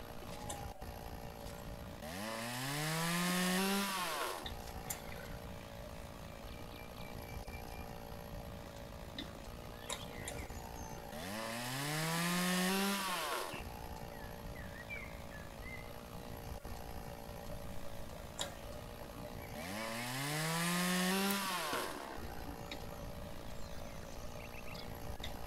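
A chainsaw in the video game Lumberjack's Dynasty, carried while swimming in water, revs up three times in loud, evenly spaced bursts, each rising and falling in pitch over a steady low background hum, with no talking.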